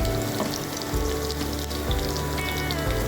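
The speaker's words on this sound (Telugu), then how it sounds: "ఆవాలు, కొన్ని చితగ్గొట్టిన ఎల్లిపాయలు, ఉల్లిగడ్డ ముక్కలు వేసి కొద్దిసేపు వేగనివ్వాలి" A tempering of mustard seeds, crushed garlic and onion pieces for a bottle gourd sambar fries in hot oil with a dense, steady sizzle and scattered crackles. A low, regular thumping runs underneath, and no one speaks.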